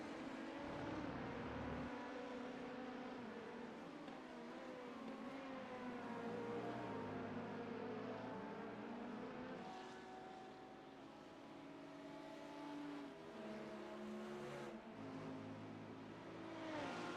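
LMP2 race cars lapping the Nurburgring in a racing video game, engines droning and shifting pitch steadily throughout, with overlapping motor notes from close-running cars.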